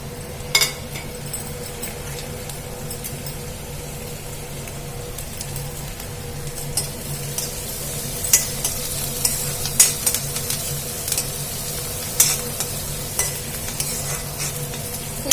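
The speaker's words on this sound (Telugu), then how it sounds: "ఉల్లిపాయ అయితే కొంచెం బ్రౌన్గా ఫ్రై ఫ్రై కావాలన్నమాట" Steady sizzling and frying of onions browning in a pan, with occasional stirring clinks and scrapes, close and continuous with no talking.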